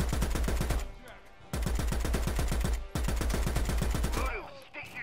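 Sustained bursts of automatic gunfire in the video game Predator: Hunting Grounds, three long rapid-fire volleys with brief pauses, loud and close.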